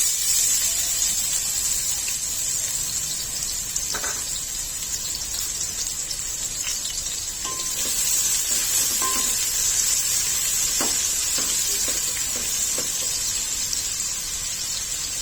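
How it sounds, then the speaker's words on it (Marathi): Chopped onion and bay leaves fry in hot oil and ghee for chicken biryani, giving a steady, close hiss of sizzling with a few faint clinks, heard alone without talk. "तेल गरम झाल्यावर त्यामध्ये दोन तेजपत्त्याची पानं घालायची आहेत एक वाटी बारीक चिरलेला कांदा घालायचा आहे"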